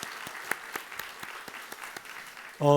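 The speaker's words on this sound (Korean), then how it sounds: "우리 하나님께 감사의 영광의 박수를 올려드리십시다" A church congregation claps in a steady, moderately paced rhythm of distinct handclaps during a Thanksgiving Sunday worship service, and a louder tonal sound cuts in abruptly at the very end.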